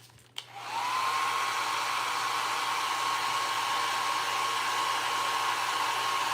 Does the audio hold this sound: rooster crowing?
no